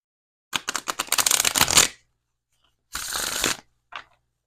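Hidden Truth Oracle cards are shuffled close up in a riffling burst of rapid flicks lasting over a second, then a shorter shuffle and a single brief card snap, with quiet between.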